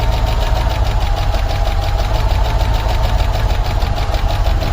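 A car engine running on gas (LPG) idles with a steady, rapid mechanical clatter and hum, constant and close, with no voices.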